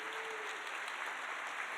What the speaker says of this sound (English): Let's give all of our donors so far that have been giving across all these levels a big round of applause